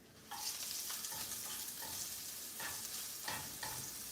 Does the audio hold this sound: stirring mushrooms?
yes